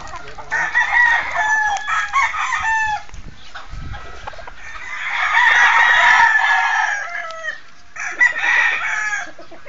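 A young rooster (stag) crows repeatedly in loud, close bursts with clucking between them, a farmyard fowl heard alone with no talk.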